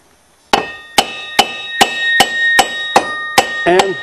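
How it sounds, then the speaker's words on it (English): A steel hammer raps a Suzuki Z400 ATV axle to drive it out: eight sharp, ringing metallic strikes at a steady, roughly half-second rhythm, close and loud, with a brief scraping clatter at the end. "And if I tap it here, I think the whole axle should just pop right out."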